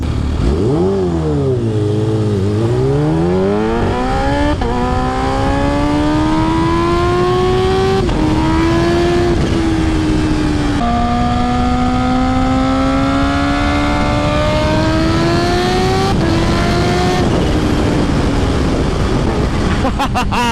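Kawasaki Ninja H2 motorcycles accelerate hard, with loud, close engine whine climbing steadily through the gears, each upshift marked by a brief drop before the pitch rises again over continuous wind rush.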